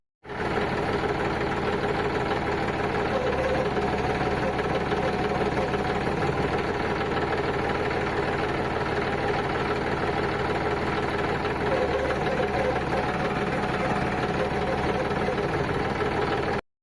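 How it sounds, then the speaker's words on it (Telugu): A Massey Ferguson 245 DI tractor runs with its hydraulic lift lever raised, giving a steady, loud, close mechanical drone with a low pump whine and a faint rhythmic knock underneath. "చూశారు కదా పంపు ఏ విధంగా సౌండ్ వస్తుందో."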